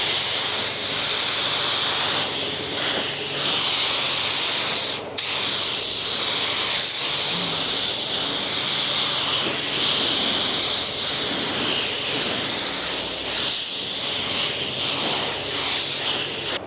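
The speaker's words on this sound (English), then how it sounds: "Gun spray's nice." Loud, continuous hiss of an InoKraft Drizzle Pro paint spray gun running at about 22 psi on a pearl mid-coat, sustained nearly without a break apart from one brief dip.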